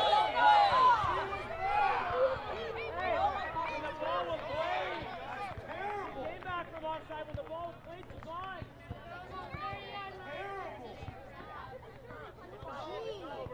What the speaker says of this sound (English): the home crowd not happy with the call